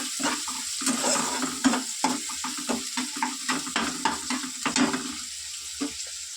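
Chopped onions frying in a little oil in a kadai, with a close, steady sizzle broken by repeated rhythmic stirring scrapes from a spatula, fairly loud and with no talk.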